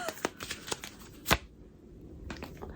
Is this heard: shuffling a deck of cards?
yes